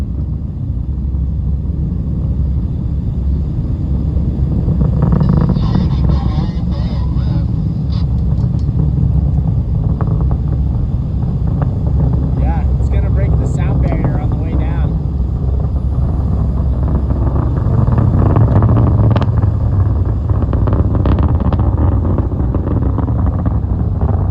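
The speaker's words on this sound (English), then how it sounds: "There goes one of Elon's rockets" A rocket launch rumbles as heard from a boat in a convoy running from Maine to Florida: a deep, continuous low roar with wind buffeting the microphone, swelling slightly toward the end, while voices talk over it.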